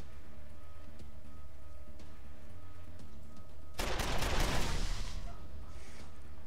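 Video game gunfire with friendly fire. Background hum comes first, then a sudden loud burst of rapid shots that fades over the final seconds, with no voices.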